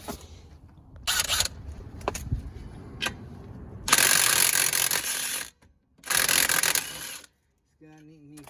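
An impact gun with a 3/8-inch extension takes off rear suspension bolts on a Dodge Charger R/T 5.7. Three loud, close bursts of rattling hammering are separated by short pauses, with quieter clicks between them.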